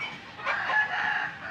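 Farmyard hens cluck in a steady run of short calls, moderately close, with a faint crow-like rise partway through and no talk over them.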